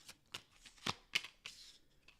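A deck of tarot cards is shuffled close by, a quiet series of short, crisp riffling bursts spaced unevenly over a couple of seconds.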